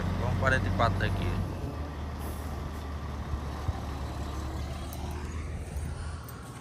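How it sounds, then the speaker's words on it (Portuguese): A loaded dump truck drives past with a heavy, steady diesel engine rumble that stays loud throughout, with a brief voice at the start. "Caçambão carregado."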